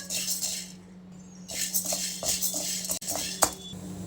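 Sago pearls stirred and roasted in a pan over a low flame, with metal spoon scraping and clinking against the pan in irregular strokes, close and moderately quiet over a faint steady hum.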